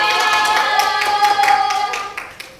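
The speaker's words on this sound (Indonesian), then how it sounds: "tepuk tangan" Students in a classroom clap together during a microteaching lesson on a trial balance, a dense burst of hand claps mixed with cheering voices that fades toward the end.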